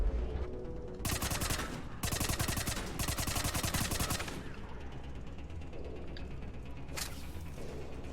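Gunfire in Mass Effect Legendary Edition, several long bursts of rapid automatic fire in quick rattling strings, loud and close, separated by short pauses, with a quieter shot near the end.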